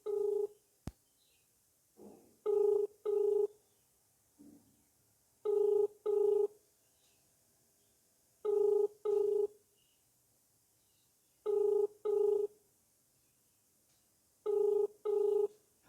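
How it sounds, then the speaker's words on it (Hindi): An outgoing telephone call rings without being answered: paired ringback tones repeat in an even cycle about every three seconds, clear and isolated against a near-silent line. "सच्चाई जानने और खबर की पुष्टि के लिए फ़ोन किया, लेकिन फ़ोन नहीं उठा"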